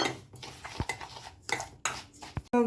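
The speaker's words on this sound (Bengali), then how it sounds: "টক দই দিয়ে আমি ভালোভাবে সুজিটা মেখে নেবো" Semolina being mixed with sour yogurt in a bowl: a spoon clinks and scrapes against the dish in uneven strokes, close by with soft wet stirring between, and no talking.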